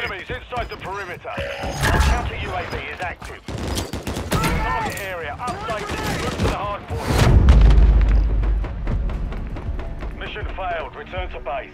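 A grenade explodes with a deep, heavy boom about two-thirds of the way through a Call of Duty: Modern Warfare 3 multiplayer firefight, amid dense gunfire and battle noise, with radio voices talking over the action.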